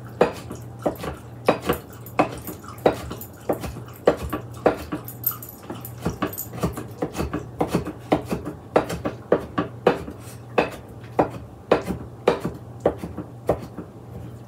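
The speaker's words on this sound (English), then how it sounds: "Now we're going to chop these artichoke hearts up." Artichoke hearts are chopped with a knife on a cutting board, a steady series of sharp, close thuds repeating in irregular rhythm, with a low steady hum underneath and no talking.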